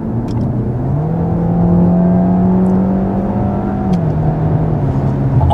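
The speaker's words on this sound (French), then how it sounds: "le bruit insupportable de ce moteur qui monte trop vite dans les tours" A Peugeot 408 GT engine revs hard and close, its pitch climbing quickly and holding high before easing slightly, a loud sustained whine with no voices.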